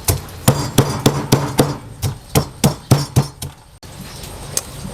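Repeated sharp pounding thuds in a steady rhythm, like a pestle striking a mortar, close and fairly loud, pausing briefly before a few more strikes.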